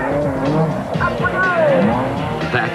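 Ford Courier super truck racing at speed, its engine roar and tyre noise running continuously beneath steady, excited commentary.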